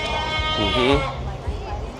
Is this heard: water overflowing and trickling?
no